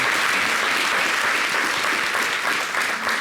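Studio audience at a TV talk show bursting into steady, loud applause, a dense wash of clapping hands that holds for a few seconds and begins to thin toward the end.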